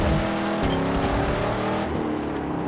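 In the Mad Max video game, a car engine growls loudly and continuously with gritty, rough revving that eases slightly near the end.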